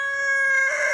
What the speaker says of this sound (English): rooster's going crazy